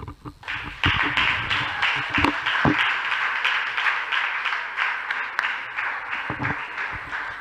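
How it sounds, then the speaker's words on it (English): Audience members at a school debate competition clap in steady, sustained applause that fills the hall, a dense pattering wave with a few louder individual claps standing out. "A round of applause for the 4 of them."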